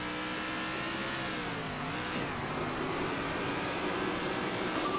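A race car engine in the video game Circuit Superstars drones steadily at high revs, with pitch dipping and climbing again through a corner before holding a loud, continuous whine; no voices.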